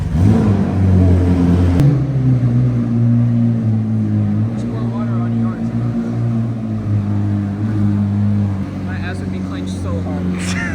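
Two McLaren hypercars, part of a limited run of 30, starting up with a sharp burst and then settling into a loud, deep, steady idle and rev, with a person talking over the engines.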